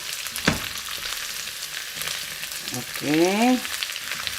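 Onion sizzling and frying in a pan for chicken with bitter gourd, a soft steady crackle with faint stirring, and a brief spoken word over it.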